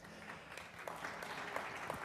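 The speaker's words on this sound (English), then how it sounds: "Wow, that's the thing I get applause for" A lecture audience at a talk on liveable cities and vibrant waterfronts claps steadily, a dense, fairly faint wash of applause with no voices over it.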